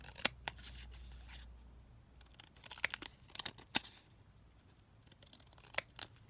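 Scissors snip a small paper postage stamp in a handful of sharp, crisp cuts spaced irregularly across a quiet background, close and clear.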